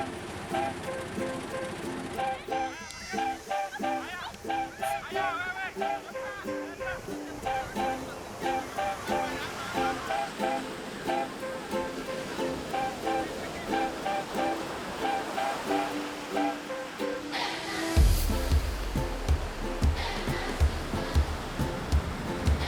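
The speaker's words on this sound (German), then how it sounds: "Hier sind die Wellen richtig wild, sind sogar ein paar Surfer im Wasser." Wild ocean waves roll and crash continuously along a beach north of Diani Beach in Kenya, a loud sustained surf roar with gusting wind buffeting the microphone and a heavier wave surge near the end.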